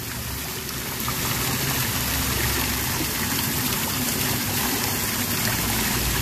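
Water splashing and trickling in a town green fountain in Bristol, a steady, dense outdoor wash of running water with no breaks, moderately loud and close.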